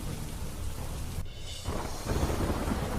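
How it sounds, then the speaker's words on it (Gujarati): Heavy rain pours at Pavagadh, a dense, loud hiss that dips for a moment and then swells again, with deep thunder rumbling underneath. No voices. "મેઘરાજાએ ધડબડાટી બોલાવી ધોધમાર વરસાદ થતા"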